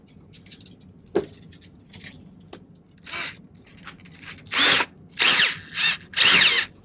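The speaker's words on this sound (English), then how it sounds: "I'm going to chuck it right into my drill" A power drill spins up in a series of short whirring bursts, twisting a length of folded 18 gauge silver wire for a silversmithing bracelet; the later bursts grow longer and louder, close to the listener.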